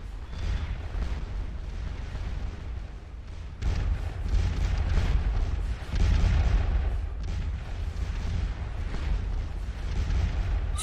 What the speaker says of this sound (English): Those guys are under artillery fire.